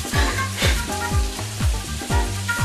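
Bacon strips broken into halves sizzling in a frying pan, a close crackling sizzle with repeated low thuds and scrapes as the pieces are handled.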